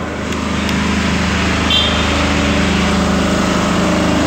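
A Tsuzumi TDG 15000 S-3 genset runs at a steady drone, a constant close engine hum holding even from start to finish with no voices.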